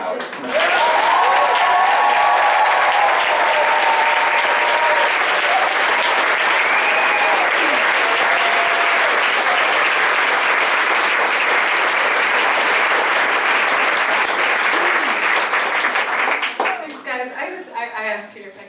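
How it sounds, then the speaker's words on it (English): Audience at an autumn art gallery event in Baltimore breaking into long, loud applause with cheering voices mixed in, sustained for over fifteen seconds before tapering into scattered claps and chatter. "we're going to give her a huge round of applause"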